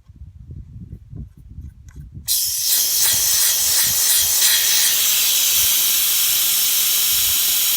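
After a low background rumble, a loud, steady rush of air suddenly bursts out of a large FMTV military truck tire through its open valve stem with the Schrader valve removed, and the hiss continues unbroken.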